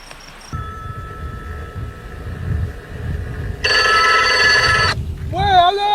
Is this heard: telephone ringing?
yes